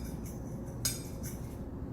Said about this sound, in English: you're gonna mix up the lime juice and salt and pepper